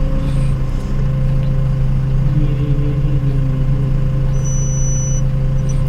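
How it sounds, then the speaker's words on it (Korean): A forklift's rear proximity sensor gives a single high-pitched electronic beep near the end, over the steady low rumble of its idling engine. "지금 삐 소리가 나죠? 사람이 뒤쪽에 있으면은 그 감지기가 삐 소리가 나요."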